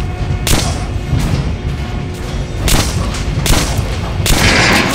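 Repeated gunshots fire at a training dummy at a shooting range in the video game Metro Last Light, about six sharp loud reports spaced irregularly over a low rumbling background.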